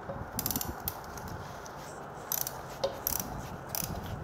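A ratchet wrench tightens the oil filter on a Honda SH350i scooter during an oil change: close, crisp bursts of rapid clicking in short runs, with no talking.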